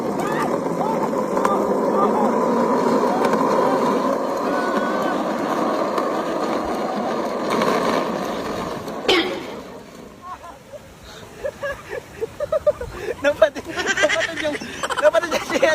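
A small, fast toy mini car runs with a steady buzzing motor whine for several seconds, then stops abruptly, followed by quieter rattles and excited voices talking.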